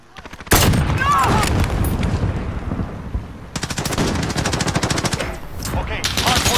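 Rapid automatic gunfire in Call of Duty Modern Warfare, loud close bursts of machine-gun fire filling most of the clip with a short break near the middle, under faint game chatter.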